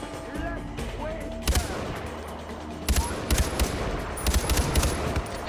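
Gunfire in Far Cry 4, sharp repeated shots in short bursts over a rumbling game soundscape, with someone speaking between volleys.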